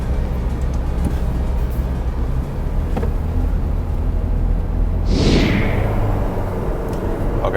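Ferrari 458 Speciale Aperta with the top down pulling away, its engine a steady loud rumble throughout with a brief rising whoosh near the end; no talk.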